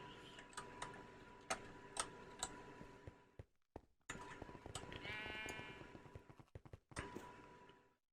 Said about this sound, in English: Lots of sheep over here.